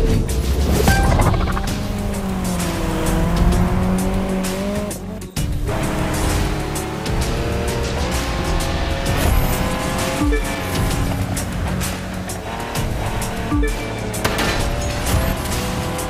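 Race car in The Crew 2 driving hard, a loud continuous engine roar rising and falling through gear changes, with tire squeals and skidding over sixteen seconds.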